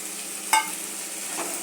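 A spoon scrapes once through masala and green field beans in a hot pan. A soft sizzle runs underneath, and the clip holds no talk.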